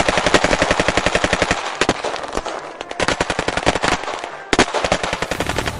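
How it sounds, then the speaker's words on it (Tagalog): Rapid bursts of machine-gun fire rattle loudly in long volleys, broken by brief pauses and a couple of sharp single shots, as barrels open fire on a village in an audio story. "sa pag-atake ni Atan, doon ay nag-umpisa na naman ang mga putok ng barel sa baryo"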